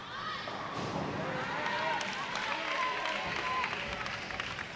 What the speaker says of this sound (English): They're getting loud here as Weber off to the hot start.